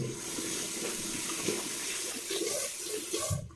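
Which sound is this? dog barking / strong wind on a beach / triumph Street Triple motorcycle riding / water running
water running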